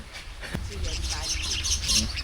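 Lovebird calls on a trip in New Zealand: short, shrill chirps and squawks come and go close by under people talking and a steady noisy background.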